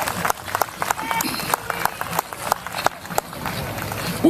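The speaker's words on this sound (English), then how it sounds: "Let's have a round of applause." Crowd applause at a city of Murrieta 20th anniversary birthday celebration: a steady patter of many hands clapping, with sharp individual claps and some voices mixed in.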